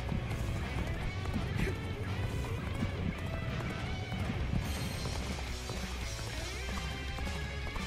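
Rhythmic hoofbeats of a galloping horse with an occasional whinny in Dynasty Warriors: Origins, mixed into a busy game soundscape with clashing noises throughout.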